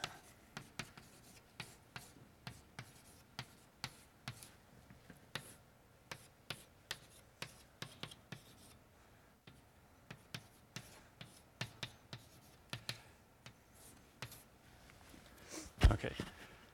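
Chalk or marker writing on a board during a mathematics lecture on Khovanov homology, a steady series of short taps and strokes at a quiet level, with faint room noise and an occasional louder knock near the end.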